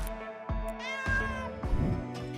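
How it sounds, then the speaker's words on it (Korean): A cat meows several times in short, clear, close calls, each rising and falling, with brief pauses between them and no talking. "야옹, 야옹"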